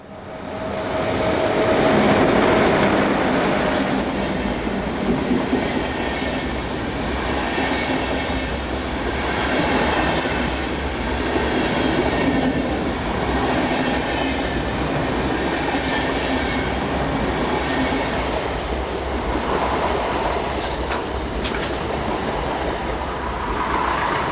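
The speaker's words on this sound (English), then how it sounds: "Soon for withdrawal is number 217, seen here passing Rudesheim, with a southbound motorrail service" A DB Class 103 or 110 electric locomotive passes Rudesheim in Germany hauling a southbound motorrail train, a loud, sustained rumble and clatter of wagons rolling by with a brief squeal near the end.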